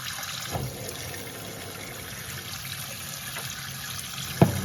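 Hot water runs steadily while a GM 4L60E automatic transmission valve body is washed, a continuous close splashing with a few brief knocks near the end.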